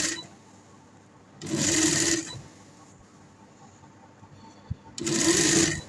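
A sewing machine stitching folded fabric along a garment neckline, two loud, close bursts of rapid mechanical whirring, each about a second long, separated by a quiet pause.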